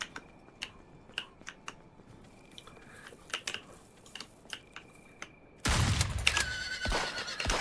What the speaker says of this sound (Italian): il mio cavallo